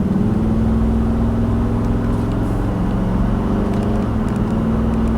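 A 2012 Nissan Titan SV Texas Edition full-size pickup on the move, its engine a low, steady drone with constant road rumble, heard from inside the cab with no talking.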